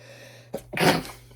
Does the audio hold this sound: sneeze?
yes